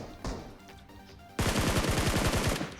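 PUBG Mobile gunfire: one faint shot, then a loud rapid burst of automatic fire that runs evenly for over a second before cutting off.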